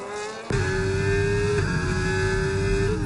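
An F1 race car engine from an online league race at the Azerbaijan Grand Prix in an F1 racing video game, heard onboard a Ferrari. A steady, loud, high engine whine cuts in suddenly after half a second and holds.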